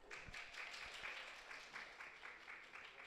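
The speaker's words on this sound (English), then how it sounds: "If you could give another round of applause." An indoor audience claps for a sake brewery representative at a Tokyo event, a soft, even round of applause with rhythmic clapping throughout, heard at a moderate distance.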